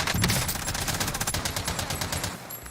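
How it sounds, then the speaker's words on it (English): Rapid bursts of MG42 machine gun fire in a first-person shooter video game, loud and close, a steady rattling stream of shots across the whole stretch with no talking. "The recoil on this MG42 is fucking crazy."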